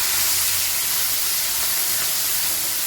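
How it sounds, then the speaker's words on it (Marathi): Crushed green chilli thecha hits hot oil in a heated kadhai, giving a loud, steady sizzling hiss that fills the whole moment without any talk. "आपली कढई तापली आहे, त्यामध्ये तेल घेतलंय। आपण जो ठेचा वाटून घेतलाय तो टाकूया।"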